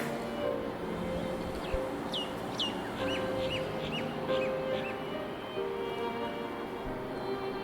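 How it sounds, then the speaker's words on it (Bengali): Crested goshawk squabbling with mynas and crows in a hillside residential area, a steady run of sharp, repeated harsh bird calls, some rising in pitch, over continuous background noise. "ক্রেস্টেড গোসক, তার সঙ্গে শালিক এবং কাকের লড়াই।"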